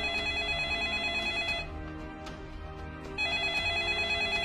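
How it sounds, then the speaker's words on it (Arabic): A telephone rings insistently in a home, a bright electronic trill that sounds, pauses briefly, then resumes, fairly close and loud with no voices over it. "ولم يقطع هذا الشرور إلا رنين الهاتف المزعج"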